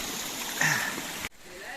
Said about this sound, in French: là on traverse ce cours d'eau là et en fait il est chaud